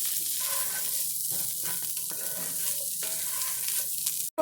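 Chicken browning in a pan gives a steady, close sizzling hiss that runs without a break, then cuts off abruptly just before the end with a brief loud clatter.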